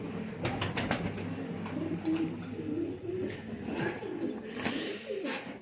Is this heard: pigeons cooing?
yes